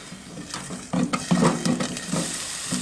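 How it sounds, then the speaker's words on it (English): Food is stirred around in a pan at a backyard winter campsite. Several close scraping strokes come over a soft sizzle, with no talking. "I just want to stir this around a little bit"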